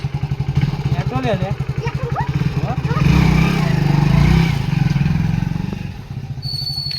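A Hero Splendor motorcycle engine runs steadily nearby, swelling louder for a few seconds in the middle, while several people talk over it.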